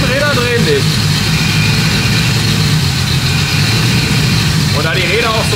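A VW Golf engine runs steadily in gear with the wheels turning, a continuous close drone throughout while a person talks over it.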